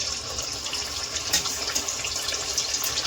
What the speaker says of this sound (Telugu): ఇప్పుడైతే మనం ఉడకబెట్టిన చికెన్ ముక్కలు అయితే వేసేసుకుందాం.